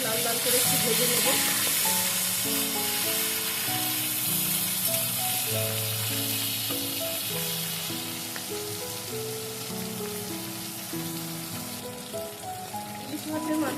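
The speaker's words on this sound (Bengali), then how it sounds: "মাছের মাথাগুলো আমি উল্টে পাল্টে লাল লাল করে একটু ভেজে নেব।" Hilsa fish heads fry in hot oil, a steady broadband sizzle running throughout under a loud melodic music track.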